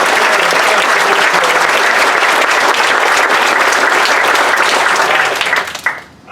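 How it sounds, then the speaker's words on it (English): Audience at a nonwovens plant grand opening in Maiden, North Carolina, breaking into loud, dense sustained applause that fills the room, then tapers off abruptly at the end. "we need to give another round of applause for the men and women in blue"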